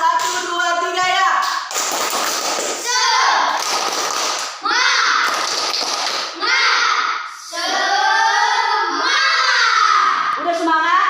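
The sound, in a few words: classroom children doing a rhythmic spirit clap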